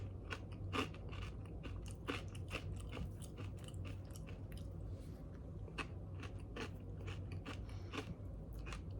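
Close, dry crunching and chewing of a crisp snack seasoned with salt and rosemary, a steady run of sharp bites and crackles repeating across the whole stretch with no talk.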